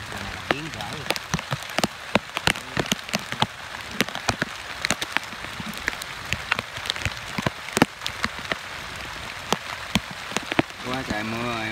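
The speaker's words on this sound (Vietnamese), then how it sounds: "Quá trời mưa rồi mấy bạn ơi." Heavy rain from a tropical storm pours on the Hau River while snake traps are checked, a steady dense hiss broken by frequent sharp drops striking nearby surfaces, loud and close throughout.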